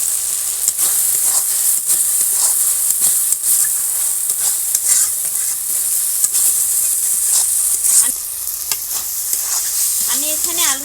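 Small fried potato cubes stirred into a sizzling spice mixture for a homemade paneer curry, with loud continuous frying hiss and repeated scraping strokes of a spatula in the pan, no talking.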